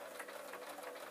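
A sewing machine runs a steady stitch through an oilcloth strap for a messenger bag, a continuous close mechanical whir with a fast even rhythm and no talk.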